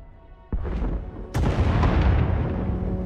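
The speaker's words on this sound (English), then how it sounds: "Sounds like the bombing's getting closer." Bombing explosions in Star Wars: The Old Republic hit twice, a first heavy boom followed about a second later by a louder, closer blast whose deep rumble rolls on and fades slowly.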